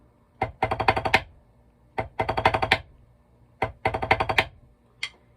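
A drum line plays a snare rhythm built on a nine-note grouping, three rapid rattling bursts of tight, crisp strokes separated by short pauses, ending with a single accent, loud and close with no talking.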